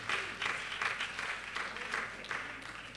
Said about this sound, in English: Can we clap our hands in the house?